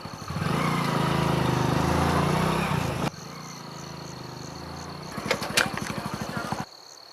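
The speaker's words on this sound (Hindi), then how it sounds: "मोटरसाइकिल की आवाज़ आ रही है" A motorcycle approaches at night, a loud, rough engine roar that drops suddenly, then returns as a nearer, pulsing rumble before cutting off.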